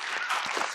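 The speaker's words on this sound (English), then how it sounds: "let's give them an applause" Audience at a social media creators panel claps for the guests, a short burst of mixed applause.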